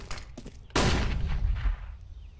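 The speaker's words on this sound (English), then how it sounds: "Flashbang." A flashbang grenade goes off in Counter-Strike on the Cache map, a single sharp burst that follows a few soft clicks and then decays into a loud ringing roar lasting over a second.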